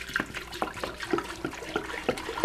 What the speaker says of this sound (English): I'm going to pour this into my stock pot right here.